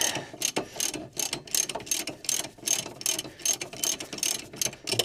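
A socket ratchet working loose rusty 14mm brake pad carrier bolts on a Mk1 Mazda MX-5, giving fast repeated clicking bursts in an uneven rhythm, close and clear.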